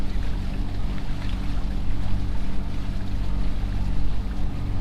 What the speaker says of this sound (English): The engine seemed to be running smooth.